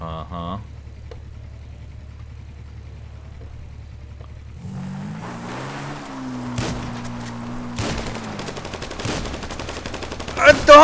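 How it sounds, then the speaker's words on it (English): Grand Theft Auto V plays with a low engine hum and revving vehicle, then scattered sharp gunshots crack in the second half, ending in a louder burst of fire. "Man, you were shooting all over me"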